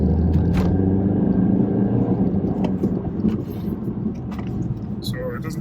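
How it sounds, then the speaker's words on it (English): A 2014 BMW 1 Series engine in sport mode gives a steady, fairly quiet low rumble from inside the cabin, with faint road and wind noise and no real roar. "Listen to the engine."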